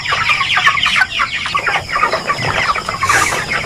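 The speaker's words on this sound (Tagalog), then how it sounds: "So magpapatuka na po tayo para meron silang tukain hanggang umaga." Chickens cluck loudly and busily in a farm coop at eight in the evening as feed is scattered, a close, overlapping chorus of short clucks and squawks with no voices.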